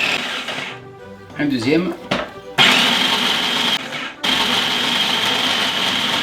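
An electric grater shreds a block of cheese for a gratin, a steady whirring motor hum that starts, cuts out briefly, then runs on loud and close, with a short spoken phrase early on.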